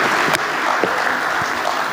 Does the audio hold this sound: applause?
yes